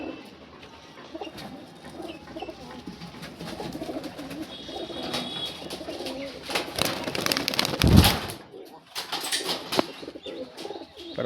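Madras Giribaz pigeons coo in a close, continuous run of throaty calls, and wings flap in a loud burst near the middle.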